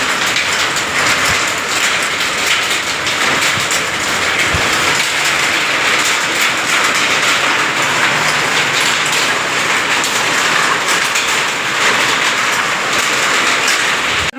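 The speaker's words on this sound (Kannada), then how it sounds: "ಸಿಕ್ಕಾಪಟ್ಟಿ ಮಳೆ ಬರಾಗೈತಿ" Heavy rain pours down in a dense, loud, unbroken roar, close by and steady throughout, with no voices over it.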